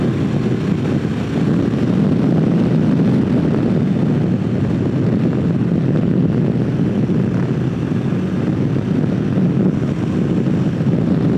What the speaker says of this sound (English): I've opened the throttle completely in 5th gear.